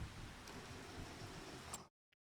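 Steady rain pours down in a farming simulator game, a dense even hiss that fills the scene for nearly two seconds before cutting off abruptly to near silence, with one tiny click afterward.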